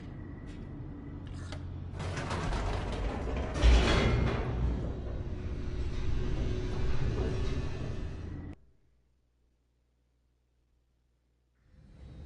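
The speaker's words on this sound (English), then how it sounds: "The elevator raced downward, plummeting towards an unknown fate." Elevator plunging downward in The Stanley Parable, a loud continuous mechanical rumble and rattle with creaking, clanking movement and a sharp jolt partway through, cutting off abruptly to near silence before a faint sound returns at the end.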